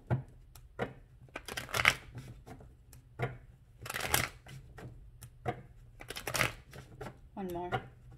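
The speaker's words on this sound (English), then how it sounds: "let's do five shuffles and start" Tarot cards are shuffled in a series of brisk riffling bursts and soft slaps, fairly quiet and close, with a person speaking intermittently between the shuffles.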